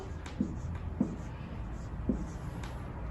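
Numbers written by hand during a lesson on binary conversion, with a few soft taps and scratches of pen or chalk at irregular intervals over a steady room hum, faint and close.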